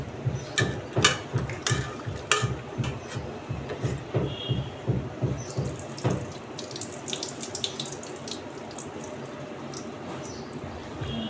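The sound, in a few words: water being poured out into a sink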